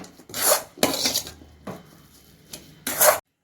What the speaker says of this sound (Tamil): இதில் உப்பு போட்டுக்கிறேன் இதை நல்லா மிக்ஸ் பண்ணிக்கலாம்